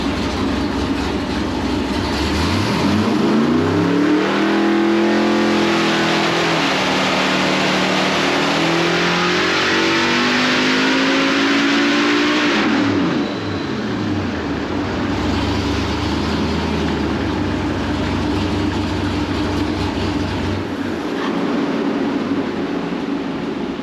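A 426 Dart Gen III Hemi engine with headers revs hard on a dyno, a loud, sustained roar that climbs in pitch, holds near full throttle, then drops back and stays at a high steady drone, with no talking.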